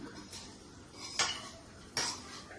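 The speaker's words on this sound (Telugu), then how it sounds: "ఈ స్టఫ్ చేసుకున్న కాకరకాయని మూకుట్లో వేసేసుకుందాం. ఇలా ఒక్కసారి పైనుంచి కింద దాకా ఇట్లా కలుపుకుని" Stuffed bitter gourd being stirred in a pan while it fries, with a metal spoon scraping and knocking against the pan in three distinct strokes over a soft background, close and clear, with no talking.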